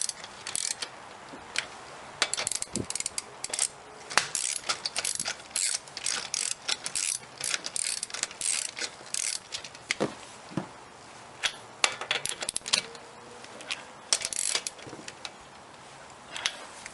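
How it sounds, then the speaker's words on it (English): A torque wrench ratchets in quick clicking bursts while tightening the wheel nuts on a 2007 second-generation Toyota Prius in a star pattern, close metallic clicks separated by short pauses. "I have my torque wrench set for 78 foot-pounds."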